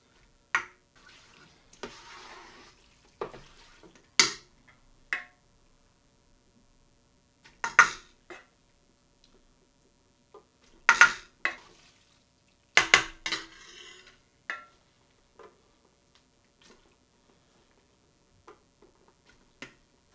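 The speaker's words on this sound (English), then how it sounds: "Please be sure to stir as you go along." A spoon stirs macaroni and cheese sauce in a pot, giving scattered clinks and scrapes against the metal in short irregular bursts with quiet gaps between, close and fairly soft, with no talking.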